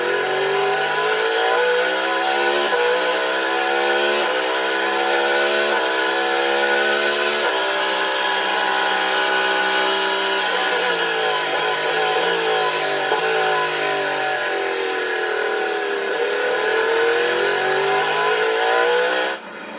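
Whelen Engineering Cadillac prototype race car heard onboard at the Rolex 24 at Daytona, its engine screaming loudly through repeated upshifts and downshifts, pitch climbing and dropping in waves, no talk.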